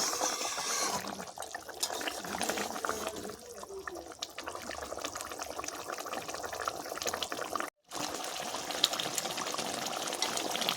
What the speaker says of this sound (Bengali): দেখো মাছের ঝোলটা ফুটে গিয়েছে। আমি আবারও একটু নাড়াচাড়া করে দেব।